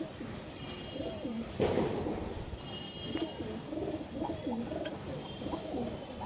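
Desi high flyer pigeons, including a yellow-eyed Kalpetia hen, coo in soft repeated low bursts close by, with steady background noise throughout.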